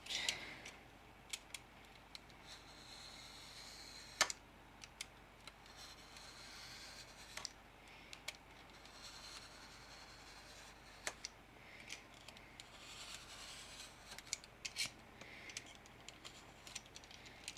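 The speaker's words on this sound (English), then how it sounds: "So I'll just trim it all together now." Paper pages for a mini journal are trimmed with a blade in a quiet room, giving faint, sparse ticking cuts and small scrapes spaced irregularly across the stretch.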